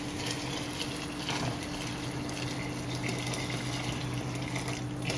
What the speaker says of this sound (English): So if you can just pour it over the veggies and just and bring the water all the way to 3/4 full.